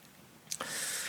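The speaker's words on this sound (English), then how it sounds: "press Alt and right click on your mouse" A single computer mouse right-click, a brief sharp tick close up in a quiet room, followed by a soft steady hiss.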